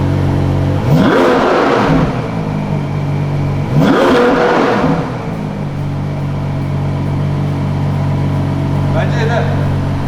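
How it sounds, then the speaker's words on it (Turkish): A Ferrari 12Cilindri's V12 engine revs twice in strong rising-and-falling surges, then settles into a steady low idle hum, with a faint third blip near the end. "Şimdi arkaya geç bir gaz vereceğim."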